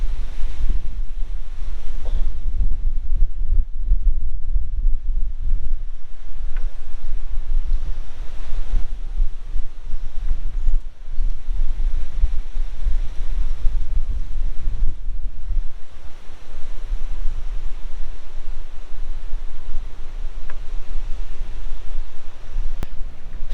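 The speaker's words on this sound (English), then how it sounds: "it is blowing a gale" A strong gale roars past the microphone beside the Murray River at Wellington, South Australia, buffeting loudly and continuously, with gusty rumbles and surging water-like wash throughout and no voices.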